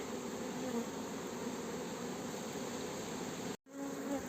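A dense, steady hum of honeybees balled tightly around a queen in a hive fills the clip at low volume, continuous and close, with a brief dropout near the end.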